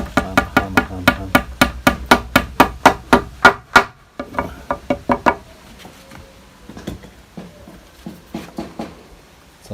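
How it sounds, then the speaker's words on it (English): Sharp hammer blows on a small piece of wood used to fix a loose screw hole: a fast, even run of loud knocks, then slower, lighter taps after a brief pause. "then hammer it a bit"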